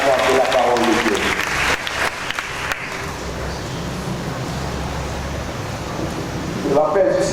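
Church congregation at a Sunday worship service applauding, a broad wash of clapping that swells then holds steady, with a voice speaking over it at the start and end.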